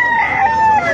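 Rooster at a tyangge market in Calumpit crowing a single sustained, loud, close call lasting about a second, with no other sound competing.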